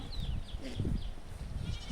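Goats grazing on a farm give faint, wavering bleats over a close background of rustling and low handling noise, brief calls scattered across the moment.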